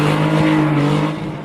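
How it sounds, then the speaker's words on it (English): Drifting car tires squeal loudly and continuously over a steady engine drone during figure-eight drifts, a sustained skid with no break. "You'll get whiplash from the intense sounds of drifting figure eights"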